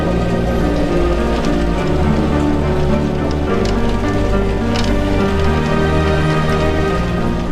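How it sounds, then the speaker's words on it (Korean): Rain beats steadily against a window in a continuous patter, with low sustained musical tones playing underneath throughout. "비가 계속해서 창을 두드렸다."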